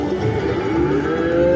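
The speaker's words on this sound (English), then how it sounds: "Oh, that's a cow." A cow moo from a farm-themed casino slot game: a loud, steady, tonal lowing call of under two seconds over a constant background hum.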